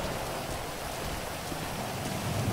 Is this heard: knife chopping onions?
no